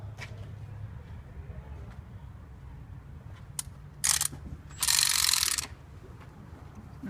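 A ratchet with a 10mm socket working on an engine part during a coil pack installation, giving soft irregular clicks, then two louder bursts of rapid ratcheting near the end over a low background hum, with no talk.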